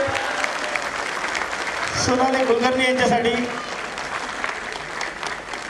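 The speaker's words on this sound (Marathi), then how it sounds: "जरा जोरदार टाळ्या झाल्या पाहिजे" An audience bursts into applause at a stage event honoring a mother, the clapping swelling loud for a couple of seconds and then fading, with a presenter speaking over it.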